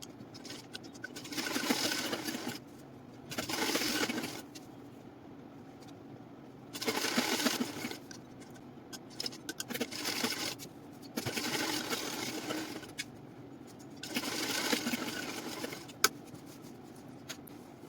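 A sewing machine stitches the back pieces of a loose-fitting ladies' pant together in several separate runs of rapid whirring, each a couple of seconds long, with quiet pauses between them and no talking.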